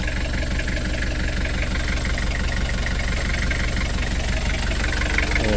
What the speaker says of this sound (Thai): เครื่องยนต์ 2L